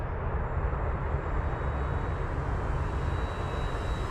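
An RC plane with a new motor and a Tempest 12.8 propeller flies past, giving a steady, loud droning buzz that holds without a break and has no voices over it.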